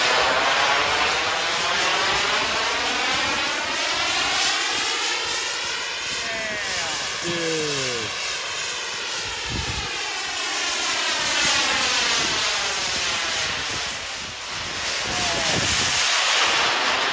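A radio-controlled model jet airplane roars past with a loud turbine whine and hiss, its pitch sweeping up and down through a long close flyby before fading slightly and returning.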